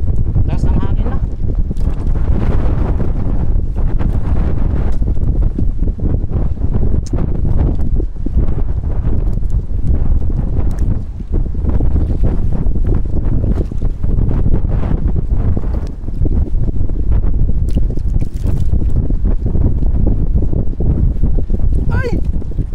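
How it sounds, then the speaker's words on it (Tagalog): Strong wind roaring and buffeting the microphone on a boat at sea during a fishing trip, a loud continuous rumble, with voices talking now and then. "Lakas ng hangin na."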